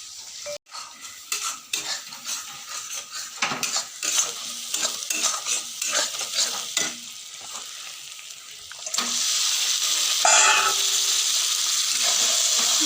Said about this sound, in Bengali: এইবারে ভালো করে মটনটাকে কষাবো।